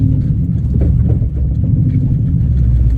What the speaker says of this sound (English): kind of hear the diff jumping around and stuff